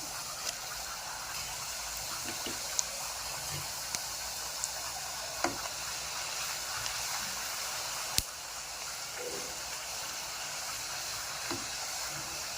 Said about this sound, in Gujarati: બધી જ પૂરીઓને આપણે હવે સારી રીતે તળી લઈશું.